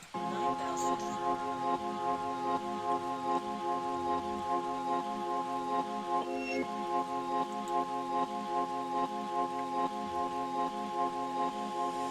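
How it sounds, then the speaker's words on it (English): Steady rain patters softly beneath continuous melodic music, with a few brighter drips standing out. "check it out to the sound of the rain"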